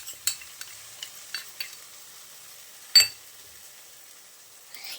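Pasta with chili sauce, garam masala and pepper powder being mixed in a pan, soft scattered scraping stir strokes with one sharper clack, quiet and close.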